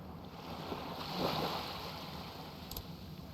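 Gentle ocean waves wash in a steady, soft rush inside the Cupid Parasite video game, a faint continuous surf with a slight swell near the middle and no voices.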